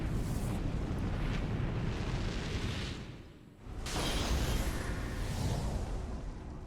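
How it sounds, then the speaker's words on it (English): A huge explosion of light in the final boss ending of the video game Dragon Quest XI roars as a sustained, dense blast, briefly dropping away before a second surging rumble swells back in. "A beautiful explosion of light."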